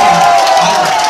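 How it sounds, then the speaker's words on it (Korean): A political rally crowd in Seoul cheers and claps in a dense, continuous roar, loud and close, with voices shouting over the applause. "이때 함성을 지르면서 박수를 치는 거예요"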